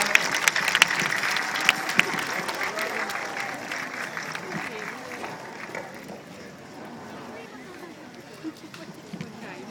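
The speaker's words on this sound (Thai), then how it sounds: "ขอเสียงปรบมือต้อนรับท่านอภิสิทธิ์เวชชาชีวะครับ" Crowd applause at Chatuchak market welcoming Thai politician Abhisit Vejjajiva, scattered clapping and crowd noise outdoors, strongest at the start and fading to a lower murmur, with voices mixed in.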